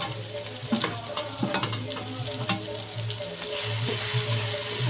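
Dry spices (red chilli powder, coriander powder, turmeric and salt) frying in a pan, a close, continuous sizzle broken by irregular scraping stirs and clicks, the hiss swelling louder toward the end.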